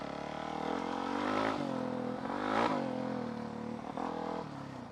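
A supermoto motorcycle engine revving and surging in waves, rising and falling in pitch as it accelerates, fairly close and loud with a rough buzzing tone.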